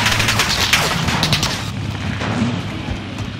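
Gunfire and explosions in a Call of Duty: Modern Warfare match, loud booming shots and crashing bursts in rapid succession, dense and close.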